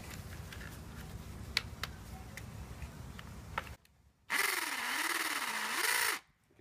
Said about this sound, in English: it's already wandering, and that's because it's a higher speed drill